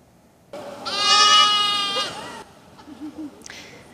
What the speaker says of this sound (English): The Good Samaritan Society brought in two baby goats and sheep for residents to pet and hold.